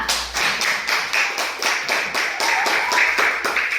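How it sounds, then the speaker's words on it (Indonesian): A group claps for a student team finishing its presentation in a classroom, a steady rhythmic round of hand claps close by, with no talk over it. "beri tepuk tangan untuk kelompok 2"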